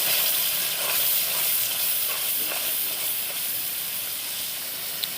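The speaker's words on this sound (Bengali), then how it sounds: "কড়াইতে রান্না করছে, মশলা পেঁয়াজ দিয়ে মশলা দিয়ে দিয়েছে" Meat frying in a wok with onion and spices gives off a steady, fairly loud sizzle and hiss that lasts throughout, with faint stirring scrapes.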